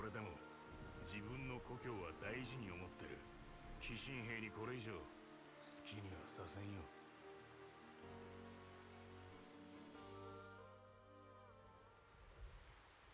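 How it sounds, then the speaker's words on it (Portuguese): Rain falls steadily in the video game Xenoblade Definitive Edition as a constant hiss of drops, heard under a voice and tonal game music. "Essas gotinhas de chuva aí, elas são 3D, né?"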